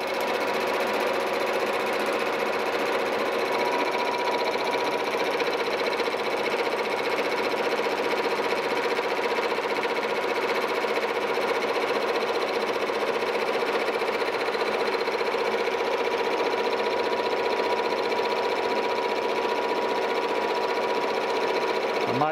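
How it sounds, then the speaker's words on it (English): A horizontal mill under power feed bores a cane mill bearing, giving a steady, continuous machining whine with tonal bands that holds evenly close by throughout. "I'll engage my feed and we'll just kind of cut through here"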